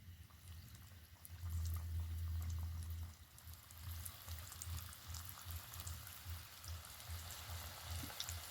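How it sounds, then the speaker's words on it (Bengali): Pitha pastries slipped one at a time into warm frying oil, giving a steady low sizzling and bubbling hiss that swells for a couple of seconds and then settles into a softer continuous fry with faint crackles. "চলুন এবার এগুলো একটা একটা করে তেলের মধ্যে ছেড়ে দেব"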